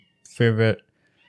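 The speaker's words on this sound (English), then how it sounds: "Sorry about that noise if you can hear my cat." A pet cat gives a single short meow in the background of a quiet room, rising and then trailing off.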